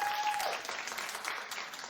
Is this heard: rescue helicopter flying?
no